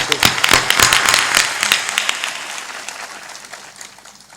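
Audience clapping at a Hindi religious discourse in Chhindwara, a burst of dense hand claps that starts loud and gradually thins and fades over several seconds.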